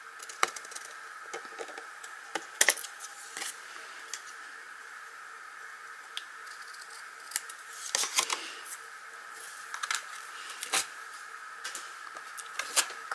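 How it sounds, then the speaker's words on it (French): Scissors cutting away excess paper while making a card, a series of short crisp snips and paper rustles scattered irregularly, close and dry with no talk. "Et je vais couper l'excédent"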